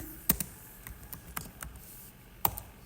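Sparse, irregular keystrokes on a computer keyboard, a few sharp clicks spaced out over a quiet room background, close and fairly soft with no talking.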